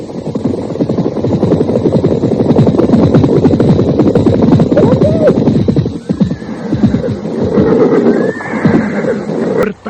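Horses of a band of riders storming a village, a radio drama effect: dense hoofbeats and clatter fill the scene, with loud whinnies rising over the din, some overlapping, fairly close throughout.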